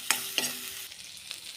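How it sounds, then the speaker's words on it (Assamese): Ground spices with turmeric and chili powder fry briefly in hot oil, a couple of sharp scraping stirs over a soft, close sizzle. "ধুনীয়াকৈ অকণমান ভাজি লওঁ"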